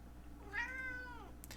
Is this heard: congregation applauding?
no